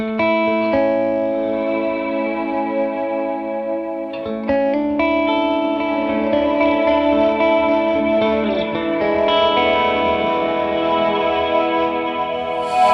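Electric guitar played through a reverb pedal, sustained chords and melodic notes washed in reverb with a smooth, lingering tail, steady and fairly loud with no talking.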